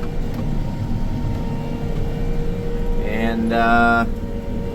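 A crop-spraying airplane working over a chickpea field, its engine droning steadily at a distance, growing louder and more tonal near the end as it passes, with a brief spoken word.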